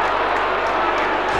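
A dense roar of a large football crowd fills the stadium at a 1995 AFL match between Fremantle and Richmond, a steady, continuous wash of shouting with a commentator's voice faintly over it.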